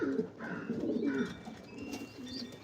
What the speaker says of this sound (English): That's just a beautiful bird